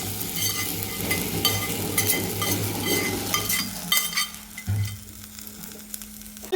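Roasted coconut is stirred into a pumpkin and red cowpea erissery curry, making a loud, close sizzle with scraping spoon strokes. The sizzle thins out toward the end, broken by a few sharp stirring bursts, with no voices.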